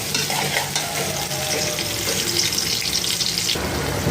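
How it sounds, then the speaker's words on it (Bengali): Spice paste for a dried fish curry fries in a pan, a loud steady sizzle with stirring scrapes running continuously throughout, close and without talk. "পেস্টটাকে ভেজে নিচ্ছি।"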